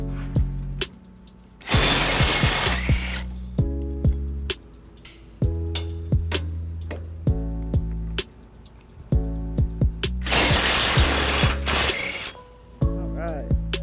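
Power tool working the tow hitch bolts on a 2014 Toyota Tundra during a front mount hitch install: repeated short mechanical bursts with clicking, ratcheting pulses in between, close by, with two longer sustained runs and no speech.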